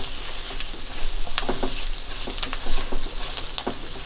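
Stuffed masala okra (bharwa bhindi) with spicy filling sizzles steadily in a pan, a continuous frying hiss broken by occasional scraping stirs, close and fairly loud with no voices.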